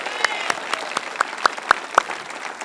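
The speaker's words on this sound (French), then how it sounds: "On va applaudir Nouvelle Vie Drummondville de ville en ville." An audience claps for Nouvelle Vie Drummondville, giving steady, evenly spaced claps roughly four per second that grow slightly sharper and louder toward the end before fading, with a soft crowd hum underneath.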